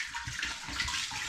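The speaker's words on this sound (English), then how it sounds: "What I'm going to do is just pour a bit of water into this pan and swill it around." Water is poured into a pan and swilled around while brewing rhubarb and hops cider, giving a steady close splashing and sloshing that continues evenly for the short moment.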